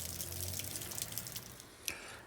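Rain patters and drips in a garden during a sudden downpour, a soft, steady spatter of drops with a few sharper splashes, faint and fairly distant, with no voices.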